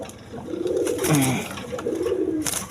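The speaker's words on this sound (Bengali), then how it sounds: "এখানে এক পেয়ার সিলভার কবুতর আছে" A pair of silver pigeons, a hen and a cock, coo in repeated soft, throaty rolls that rise and fall, close and fairly clear over a light background hiss.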